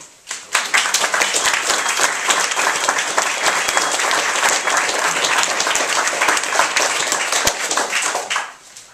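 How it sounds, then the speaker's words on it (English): An audience at a literary reading in New York bursts into applause, many hands clapping steadily and loudly for several seconds before quickly fading out. "let's give a big hand to Rue"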